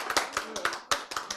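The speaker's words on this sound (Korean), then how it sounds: "박수." Applause from an audience at a Korean church lecture on life and genes: a short burst of hand clapping in uneven bursts, moderately close, mixed with a little background voice.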